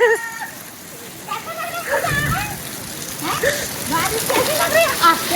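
Steady rain falling and splashing on surfaces outdoors, a continuous wash of noise with voices talking over it.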